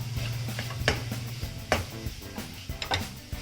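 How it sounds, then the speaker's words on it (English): Vegetables for a quiche filling fry in a pan over a low-medium flame, with a soft sizzle under repeated scraping and clacking strokes of a spoon stirring against the pan, close and moderately loud. "just mix it well and keep frying it properly"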